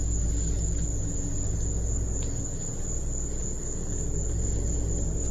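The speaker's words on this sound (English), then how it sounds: "the crickets were too loud, far too loud" Crickets chirp at night around a campsite, forming a loud, steady, continuous high-pitched drone that fills the whole stretch with no voices.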